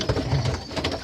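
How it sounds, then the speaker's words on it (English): Tippler pigeons coo close by in a loft, low throaty bubbling calls repeating in quick pulses over about a second, with soft rustling around them. "But they are nice pigeons."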